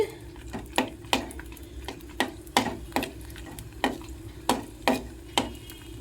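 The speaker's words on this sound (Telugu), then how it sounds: "ఎండుమిరపకాయలు కొంచెం వేగాలండి." Dried red chillies frying in a pan, a soft sizzle under regular sharp scrapes of a spoon stirring against the metal, about a dozen strokes at a steady rhythm, close and fairly quiet.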